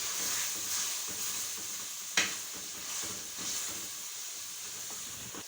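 Tomatoes fry in a pan for beef keema pulao, a soft, steady sizzle and hiss with light stirring and one brief sharp clack midway.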